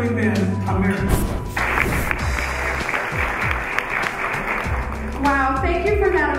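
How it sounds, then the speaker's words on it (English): Audience applause fills the hall at a masquerade gala benefiting abused women, a dense steady wash of clapping heard alongside a speaking voice and scattered low thumps. "Wow, thank you for that applause."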